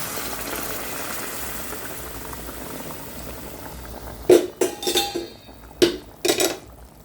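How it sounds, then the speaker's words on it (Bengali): Hot water poured into frying spice masala for a Bengali fish curry, a low steady bubbling that gives way to loud clinks and scrapes of a utensil against the pot, close and without talk. "এবার ওর মধ্যে আমি দিয়ে দেব আগে থেকে করে রাখা গরম জল"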